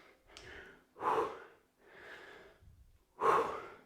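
Heavy, rhythmic breathing during a low-impact gym workout, with alternating inhales and forceful exhales close to the microphone, about four breaths, the sharper bursts sounding like snorting puffs.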